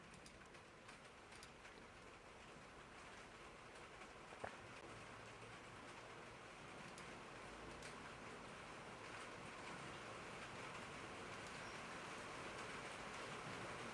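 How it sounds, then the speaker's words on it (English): Steady rain pours down outdoors as a continuous, even hiss, fairly faint and unbroken throughout, with no voices present. "that rain's coming down, isn't it?"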